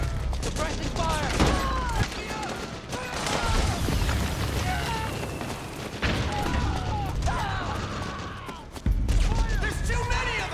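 Sustained gunfire crackles through a Metal Gear Solid 4 battle, with rapid overlapping shots and periodic heavier booms alongside shouted voices and radio chatter.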